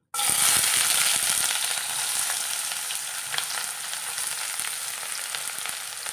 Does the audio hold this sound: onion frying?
yes